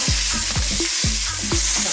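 Chicken breast stir-fries in a hot wok for a chow mein, loud constant sizzling broken by regular scraping strokes of a spatula, about four stirs in under two seconds, with no talking.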